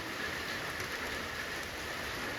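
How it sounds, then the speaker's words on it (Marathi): Steady rain, just starting, hisses evenly throughout, a dense broadband patter with no pauses and no voices. "पावसाची सुरुवात."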